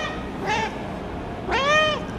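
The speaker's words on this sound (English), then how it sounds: "Every time I feed FIFA gives the food to the kittens, to the chicken, and then come and beg for more." A cat meows twice, loud and close, with two separate rising-then-falling cries about a second apart over light outdoor background noise.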